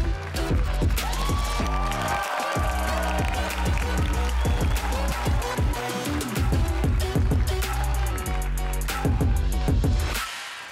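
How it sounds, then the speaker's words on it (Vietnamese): Studio audience on a dating show claps and cheers for an arriving guest, sustained applause over bright upbeat music throughout. "Một tràng pháo tay dành cho khách mời của chúng ta."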